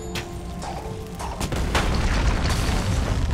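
A deep, rumbling explosion in the video game Trine 2 swells into a sustained low roar of blast noise, loud and close, with sharp crackling transients scattered through.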